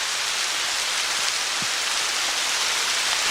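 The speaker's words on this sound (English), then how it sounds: "Not raining so much under here. Let's see if this shower passes." A steady, hissing rain shower falls around a sheltered spot under a tree on a hiking trail, dense and continuous throughout with no talking.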